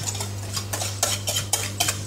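Spoon or spatula scraping almond cream filling into a tart base for a pear Bourdaloue tart: a few close, sharp scraping strokes against the bowl in an irregular rhythm, with a steady low hum behind them.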